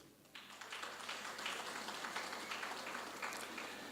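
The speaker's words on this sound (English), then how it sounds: "I think that needs a round of applause" Applause at the Amajuba TVET College graduation ceremony in 2022 begins abruptly after a brief quiet moment and continues as a steady, moderately loud wash of many hands clapping in a large hall, with no talking.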